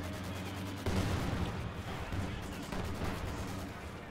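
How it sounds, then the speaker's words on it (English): Mortar fire from Company of Heroes 2 battlefield, a dense barrage of booming impacts and gunfire thudding continuously with a sharper onset partway through, loud and close amid ongoing combat noise. "Mortars all over the place."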